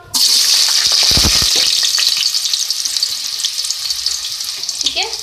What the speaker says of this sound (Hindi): और अब इसको जो है फ्राई करेंगे